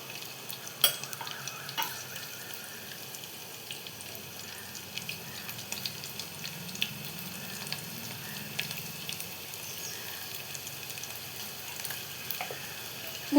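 Peanuts fry in oil in a pan for upma, giving a faint, steady sizzle with occasional small clicks and pops and no talking.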